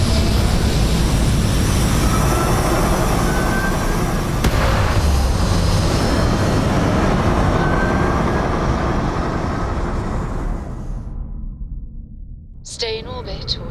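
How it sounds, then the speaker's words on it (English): Spaceship thrusters firing in Starfield, a loud steady roaring rush with broad hiss that holds for about ten seconds, then cuts away to near silence before a short burst of voice at the end. "All thrusters firing."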